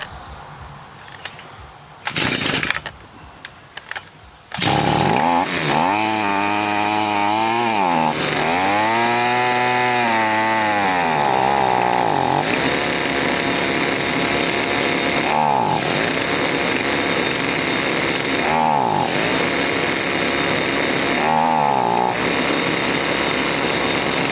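A Stihl FS45 string trimmer's small two-stroke engine starts after a brief sputter and then runs steadily and loudly, its revs rising and falling as the idle is adjusted, with occasional dips and no talk.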